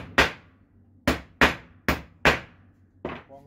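An Einhell pneumatic nailer drives nails into a wooden piece: six sharp, close pops at uneven intervals, the last one softer, with quiet gaps between and no talking.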